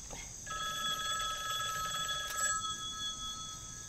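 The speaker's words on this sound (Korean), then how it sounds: "오, 전화 오네요?" A telephone rings in a rural village in Seocheon, South Korea, with a steady electronic trill that holds for about two seconds and then fades to a quieter tone, heard alone without talk.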